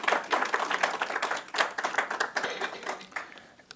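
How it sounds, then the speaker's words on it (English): Audience applause at a women's empowerment and leadership event, dense steady clapping from many hands that holds for several seconds and then starts to thin out. "Could you please let's give him a round of applause."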